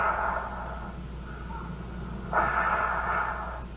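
Heavy, slow breathing from a man on an answering machine recording, heard as hissy swells of air over a steady low telephone-line hum, with one louder, rougher breath near the end.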